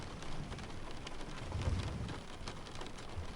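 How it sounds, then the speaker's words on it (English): Steady rain falling at night, a dense continuous hiss of drops with a brief low rumble of distant thunder in the middle, even and unbroken with no voices. "Rain steady,"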